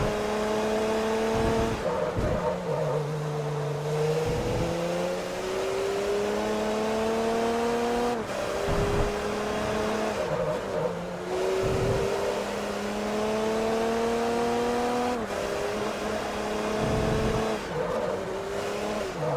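Race car in Forza Motorsport 3 lapping Laguna Seca: a loud, continuous engine note that climbs through the gears, drops sharply at each shift and climbs again, with repeated upshifts and downshifts over a sustained drive.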